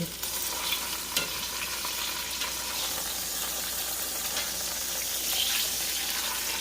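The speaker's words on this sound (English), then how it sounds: "So you just want to sear it on each side for maybe about 5 to 8 minutes" Pot roast beef sears in a hot pan with a loud, dense, unbroken sizzle heard up close, a few sharp crackles and pops rising now and then above the steady hiss.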